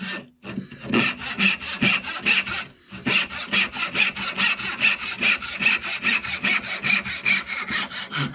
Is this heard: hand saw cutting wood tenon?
yes